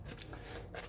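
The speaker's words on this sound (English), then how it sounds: "I'm going to shuffle these ones quickly." Tarot cards shuffled quickly by hand in one short, close burst of papery riffling, with no voices.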